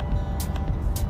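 Steady low road and engine rumble from inside a Honda City 1.5 diesel cruising downhill at 80 to 100 km/h, with brief hissy bursts of wind or tyre noise rising over the constant drone.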